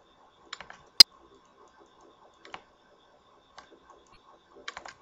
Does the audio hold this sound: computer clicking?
yes